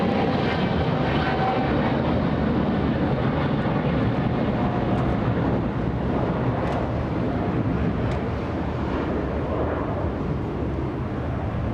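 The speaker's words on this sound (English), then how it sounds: "Loving to see the 777s take off." A Boeing 777 airliner takes off from LAX, its engines producing a loud, continuous roar that stays steady and heavy throughout, with wind buffeting the microphone.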